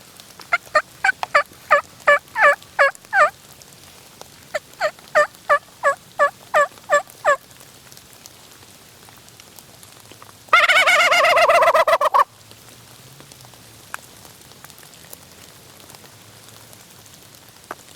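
A turkey call gives two runs of rhythmic yelps during turkey season, then a short pause before a loud, rapid gobbling burst, all in an otherwise quiet outdoor setting.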